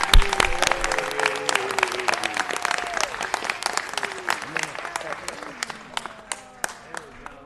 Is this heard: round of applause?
yes